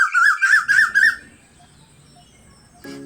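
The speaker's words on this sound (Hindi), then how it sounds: "सबने मिलकर चहचहाया।" Birds chirp and whistle in a quick burst of four rising calls, loud and close, then fall quiet before a brief squawk near the end.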